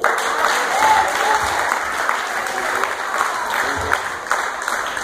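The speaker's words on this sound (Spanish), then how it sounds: "Den un aplauso a Cristo." Congregation applauding during a church sermon, sustained dense clapping from many people, loud and steady throughout with scattered voices within the crowd.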